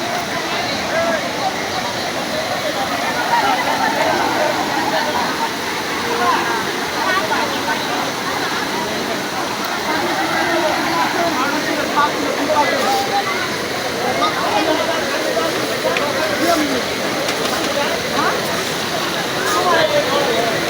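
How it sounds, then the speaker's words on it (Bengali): Waterfall pouring steadily down at a busy tourist spot where crowds bathe, a continuous broad rushing roar with splashing, constant and fairly loud throughout, with faint voices mixed in. "ঝর্ণার পানিগুলো নিচে নামতেছে"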